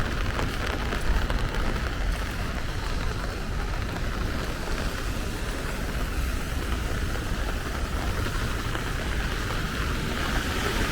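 Steady rain falls on a street in Brooklyn's Crown Heights, near Saratoga Avenue, making a dense, even hiss that stays loud and unbroken throughout with no voices.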